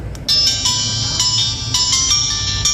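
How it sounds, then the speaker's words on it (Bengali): A keypad mobile phone plays its ringtone through a newly repaired speaker: a loud, bright electronic melody of repeating beeping notes that starts abruptly and continues steadily without talk. "দেখতে পাচ্ছেন আমাদের রিংটোনটা কিন্তু বেজে উঠলো"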